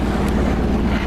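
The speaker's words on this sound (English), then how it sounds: "So we fired up the engine and we're motor sailing now." A sailboat's engine runs steadily while motor sailing with the mainsail up in an east-southeast wind, a continuous low drone blended with wind noise on the microphone and water rushing by.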